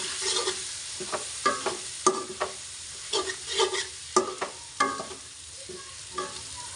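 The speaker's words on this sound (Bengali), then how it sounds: "আবারও ভালোভাবে নেড়েচেড়ে মিশিয়ে নিচ্ছি" A spoon stirs spices into a halim mixture in a pan, with clustered scraping clacks and soft sizzling, irregular and close by with no talk.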